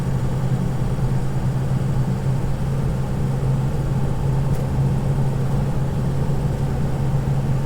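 Steady low diesel drone from a 2005 Ford Excursion Eddie Bauer 4WD with a 6.0L Powerstroke, cruising on a highway in fourth gear, a constant engine hum with road noise and no clear shift break.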